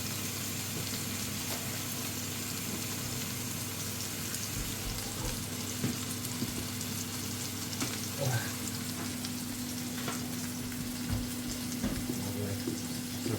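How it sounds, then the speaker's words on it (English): A tomahawk steak sizzles steadily in a hot pan, a constant crackling hiss with occasional small pops and clinks, no one speaking. "It's proper sizzling now."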